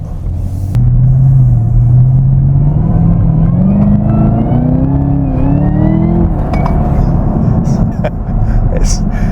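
A Camaro ZL1 engine with a new intake revs up steadily, its pitch climbing over several seconds before dropping back, loud and close with a deep rumble underneath.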